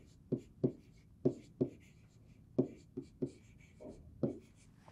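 A pen scratches on a paper maintenance procedure card in close, crisp bursts, about ten short strokes spaced irregularly, with quiet gaps between them.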